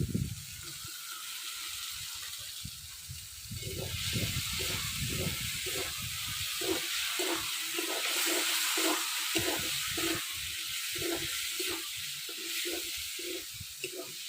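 Fried potatoes sizzle and crackle in hot spiced oil as a spatula scrapes and stirs in a quick repeating rhythm, close and fairly quiet.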